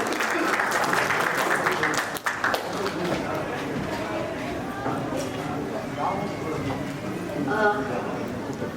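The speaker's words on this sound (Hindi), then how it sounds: "आइए जोरदार तालियों के साथ उनका स्वागत करते हैं" Audience at an award function applauds to welcome a speaker, a continuous loud patter of many hands filling the hall, with crowd murmur mixed underneath as it carries on.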